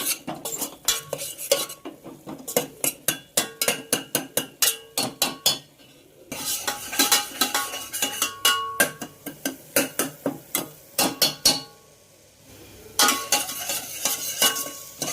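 Onions frying toward golden brown in a pan, stirred with a metal spoon in a long run of rapid rhythmic scrapes and clinks over a steady sizzle, pausing briefly twice.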